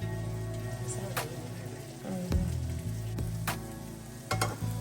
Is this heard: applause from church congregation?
no